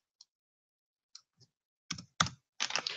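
Keys on a computer keyboard are struck in sparse clicks at first, then a few louder clustered taps and a short burst of rapid typing near the end, close and fairly quiet with no talking.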